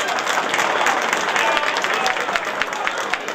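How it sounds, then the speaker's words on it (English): A crowd at a Cooley High reunion evening gives a loud, full round of applause, dense continuous clapping with faint cheering mixed in. "give a big round of applause to Eddie Whitehead."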